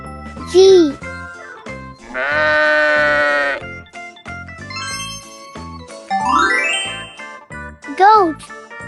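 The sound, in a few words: goat bleating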